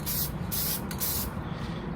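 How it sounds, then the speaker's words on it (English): A sprayer hisses onto a 3D printed helmet in three short, close bursts, the last one trailing off into quiet. "I don't like the sprayer at all on this."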